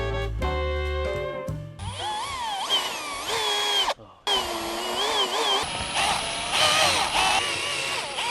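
A power drill drives screws during outdoor infrastructure work, its motor whining loudly with rising and falling pitch in repeated bursts, briefly cutting out partway through.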